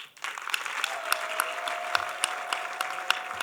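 Sustained applause from a wedding audience, a dense steady patter of many hands clapping at moderate distance, with a thin tonal whine running through it.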